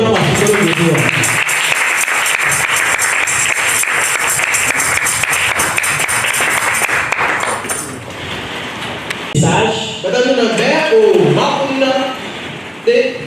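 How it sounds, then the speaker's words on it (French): Church congregation applauding and cheering loudly and steadily, a dense wash of clapping with voices mixed in, easing after several seconds and giving way to singing or excited voices. "Est-ce que tu peux acclamer le Seigneur?"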